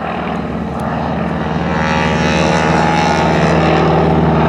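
A warbird aircraft makes a slow pass at an airshow, trailing puffing smoke while a performer stands on the front cockpit; its steady propeller drone stays loud and close for the whole stretch, swelling slightly as it passes.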